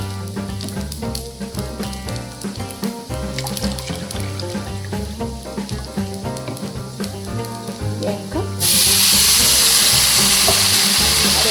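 Fried rice for basanti pulao sizzles in a pan, with clinking and stirring, before water is poured in and a loud, steady rush of pouring water takes over at the end.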